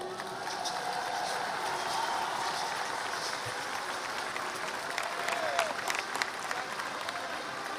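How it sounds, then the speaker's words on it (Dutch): Sustained audience applause at a national commemoration of slavery, Keti Koti on 1 July, steady and full-bodied across the whole stretch with a faint voice briefly audible beneath the crowd. "Nog een keer een applaus voor Sylveria Jacobs."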